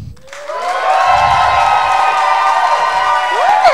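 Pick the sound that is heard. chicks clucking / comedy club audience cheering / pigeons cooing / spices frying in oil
comedy club audience cheering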